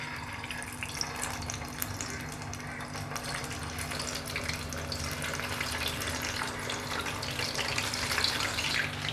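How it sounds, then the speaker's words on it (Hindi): Butterfly chicken and potatoes frying in hot oil over a low flame give a steady, soft bed of sizzle and crackle that runs unbroken from start to finish, fairly quiet and close, with no talk over it. "इसीलिए फ्लेम को लो रख के इसे फ्राई करना बहुत ज़रूरी है।"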